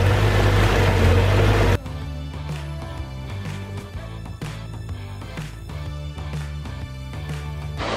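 A steady mechanical hum with a rhythmic, buzzing pulse runs continuously from a small water pump churning in a nearby recreational pond.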